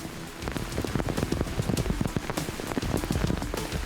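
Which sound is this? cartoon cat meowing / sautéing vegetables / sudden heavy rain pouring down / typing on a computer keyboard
sudden heavy rain pouring down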